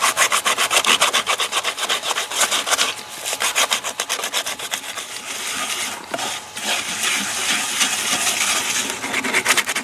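Steady back-and-forth scrubbing on a rusty cast iron pan, a dense rhythmic abrasive rasp that runs close and loud throughout without pause or speech.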